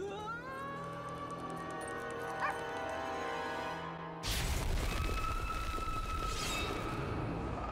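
Puppies yip and whimper over a steady backdrop in a TV episode, then a sudden loud burst of broadband noise takes over with a sustained tone, the small dog sounds continuing faintly underneath.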